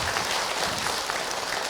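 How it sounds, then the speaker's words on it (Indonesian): A studio audience at an Islamic preaching program claps in a short, dense burst of applause that fills the whole moment, with no voices over it. "Tepuk tangan buat Ibu Rizky."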